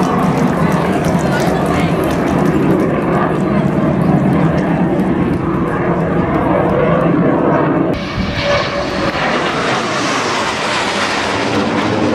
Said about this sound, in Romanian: IAR-99 Standard, care este primul avion reactiv proiectat și realizat integral în România